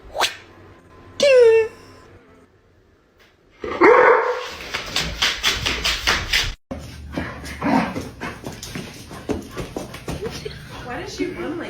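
A dog barks and yips in bursts: a couple of isolated yelps at first, then a quick string of close, loud barks and whimpers, with people talking and laughing over it.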